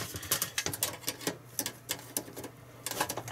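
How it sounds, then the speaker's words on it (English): A screwdriver working screws loose during the teardown of an Amstrad DRX890 Sky TV receiver box, making rapid close clicking and ratcheting taps in uneven bursts, with no talk. "The screwdriver is just a little bit too small, just spinning around on the screw head."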